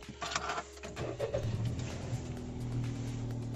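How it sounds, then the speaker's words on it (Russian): A Daihatsu Cast Sport Turbo starts up: a brief cranking whir catches into a small engine that settles to a steady, low idle hum, close and moderately quiet with no talking. "Давайте сразу заведем автомобиль, а то больно тихо стало."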